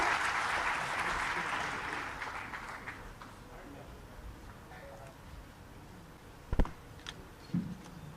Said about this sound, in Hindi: आप सब ताली बजाकर उनका स्वागत करें